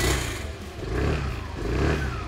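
A Suzuki Avenis 125 scooter engine revs up in surging bursts, rising and falling in pitch, close and loud with wind rumble.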